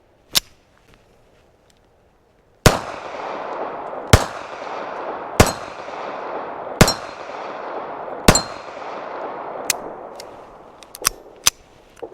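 Pistol shots from a Beretta 3032 Tomcat at a range, one early shot and then a string of sharp, loud, evenly spaced reports, each ringing briefly before the next, closing with quicker cracks.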